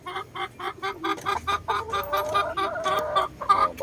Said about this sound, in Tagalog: Ayan white hatch stag.